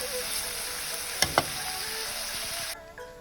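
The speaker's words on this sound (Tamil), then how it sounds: "வேக வச்ச காயெல்லாம் இதில் போட்டு நல்லா வதக்குவோம்." Boiled vegetables sautéing in a pan for varutha aracha sambar give a steady, close sizzle with two quick stirring clicks, then the frying noise drops away near the end.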